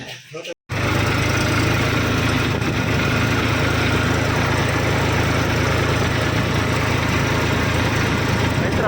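A tractor engine idles steadily with a continuous mid-pitched rumble and knock, loud and close, following a brief cut-off at the start.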